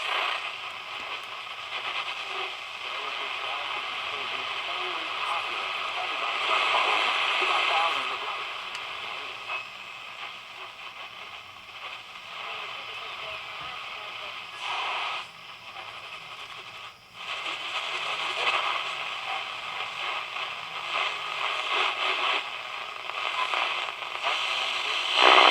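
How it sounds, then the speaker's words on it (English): A small Realistic Flavoradio AM/FM transistor radio is scanned quickly across channels, giving continuous hissing static that swells and dips as it passes stations, with snatches of broadcast voices. "It's a really quick channel scan"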